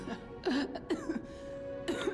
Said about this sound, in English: You started coughing before coughing.